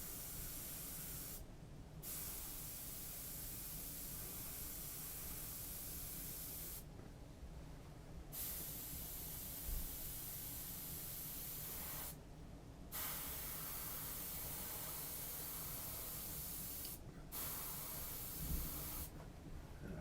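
Spray painting graphics, heard as steady close hiss from the spray nozzle, broken by several short pauses as the spraying stops and starts again.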